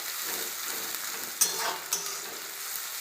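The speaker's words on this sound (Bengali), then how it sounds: "এইভাবে ভালো করে নেড়ে নেব।" Slit green chilies frying and being stirred in a pan for a meat and green pea ghugni: a steady close sizzle with two sharp spatula scrapes against the pan, no talking.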